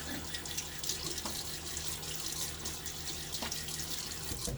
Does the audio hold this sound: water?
yes